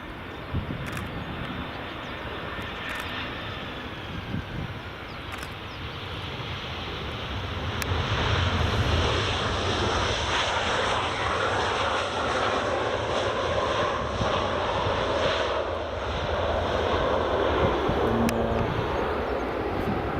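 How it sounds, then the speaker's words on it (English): An EasyJet airliner lands on runway 24 at Edinburgh Airport, its distant engine rumble rising to a steady louder roar about halfway through, blended with wind noise on the microphone. "here's EasyJet coming in."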